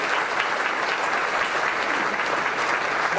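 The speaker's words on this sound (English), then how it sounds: "Let's give a round of applause." A town hall audience applauds veterans with dense, continuous clapping that holds steady at moderate loudness throughout, with no voices over it.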